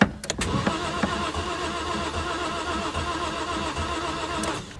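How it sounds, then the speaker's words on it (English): A 2013 Vauxhall Corsa 1.0 with a cylinder down cranks continuously without catching, a rhythmic churning starter drone that runs steadily for several seconds after a few abrupt clicks at the start. "I don't understand why it's not starting."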